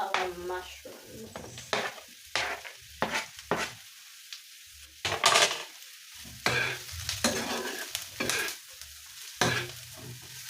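Garlic and mushrooms sizzle in a frying pan while a utensil stirs them in bursts, loud scraping strokes with quieter hissing pauses between, close to the listener.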